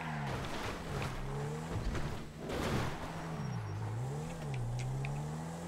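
BMW i8 engine in GTA 5 revving and whining as it goes off-road over dirt, pitch rising and falling with throttle, loud and continuous alongside crunching bumps, no speech.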